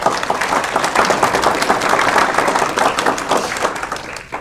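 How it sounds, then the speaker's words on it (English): Loud, dense applause from an audience at a county board of education meeting honouring an elementary school staff member, steady clapping for about four seconds with no talk over it. "Please give her a round of applause."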